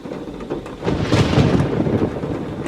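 Thunder from a lightning strike rolls through a rainy storm, a broad rumbling swell that builds and holds loud for a couple of seconds with a wash of rain noise and no voices.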